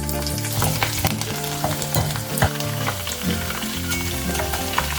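Mustard seeds, urad dal, curry leaves and chopped garlic frying in hot oil for an Andhra-style cumin gravy, a loud continuous sizzle with sharp popping crackles throughout, no voices.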